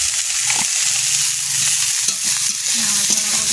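Vegetables for Bengali shukto, including bitter gourd and potato with bay leaf, salt and turmeric, sizzle loudly in a pan while being stirred, a continuous hiss punctuated by repeated scraping strokes of the spatula.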